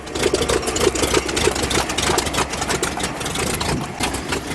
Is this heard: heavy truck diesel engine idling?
yes